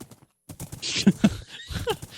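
Horse hooves clip-clop in the Minecraft video game, a few close hollow knocks in a short run, with a player talking over and around them.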